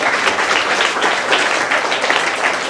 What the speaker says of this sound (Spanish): vamos a darle un fuerte aplauso a las personas quienes trajeron sus ofrendas